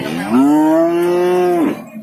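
A Limousin cow lows once at a cattle market, a single long, loud, sustained moo lasting over a second, close by and with no talk over it.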